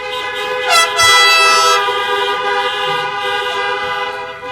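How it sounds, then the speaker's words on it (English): Loud, sustained car horns blare together at a Wellington High School Class of 2020 graduation, layered tones overlapping and swelling in a continuous honking chorus. "Now, let's have a few honks for your class of 2020 valedictorian, Allie Starner."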